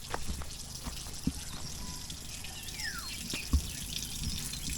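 Water trickles steadily from a tap left open in a campsite restroom, a continuous splashing hiss with a couple of sharper drips or knocks standing out.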